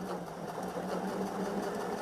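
A Bernina sewing machine stitching at a fast, steady pace, its motor whirring with a dense rapid needle patter throughout, close and continuous with no talk.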